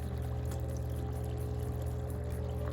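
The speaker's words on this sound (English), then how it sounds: "Let's turn on the bubbles too." A MaxKare foot spa massager churns bubbles through bathwater, a constant close bubbling rush over a low motor hum, steady throughout with no talking.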